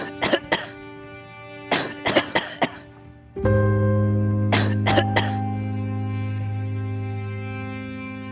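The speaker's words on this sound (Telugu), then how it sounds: "ఏమోరా 2 రోజుల నుండి దగ్గు వస్తుంది" A man in a COVID-19 short film coughs in several rough bursts, clustered in two groups, followed by a sustained low voiced groan or hum that lingers to the end; close and fairly loud.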